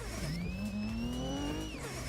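A Volvo car in the Assetto Corsa driving game accelerates hard, its engine note rising steadily and continuously over about two seconds, with faint tire noise under it and no talking.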